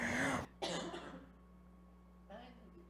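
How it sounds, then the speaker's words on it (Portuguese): A person coughs sharply a couple of times, close to the mic, followed by a quieter throat sound after a pause. "Desculpa, estou com tosse."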